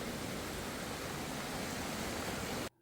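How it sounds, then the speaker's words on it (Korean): Mountain stream rushing through a canyon near Cascade Falls in Ouray, Colorado, a steady, close, broadband roar of flowing water that cuts off abruptly at the end. "계곡이 흐르고요."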